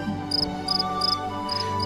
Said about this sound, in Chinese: 就是那一只蟋蟀